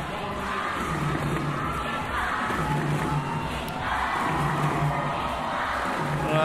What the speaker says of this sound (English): Nippon, Nippon is the call in the crowd.